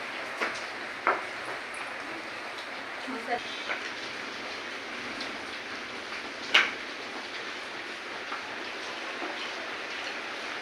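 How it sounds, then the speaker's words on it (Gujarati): Light rain falls steadily in a village during festival preparations, a soft continuous patter with a few louder drops, while voices talk faintly in the background. "થોડો વરસાદ આવે છે."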